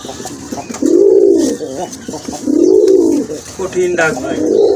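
Pigeons coo in slow, swelling phrases close by, three or four rounded calls with short pauses, in a pigeon dealer's stall, with faint background voices.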